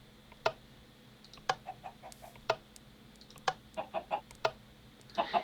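Clucking from chickens in the Minecraft video game, short sharp blips repeating at roughly one-second intervals with quicker clusters toward the end, clean and isolated over a faint background hum.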